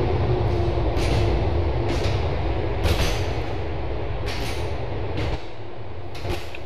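A train rolling across a bridge in GTA 4, a steady low rumble with recurring rhythmic clacks and creaks of the wagons, close and continuous.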